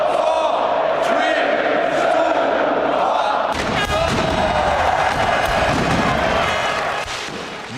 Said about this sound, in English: there were more fireworks to come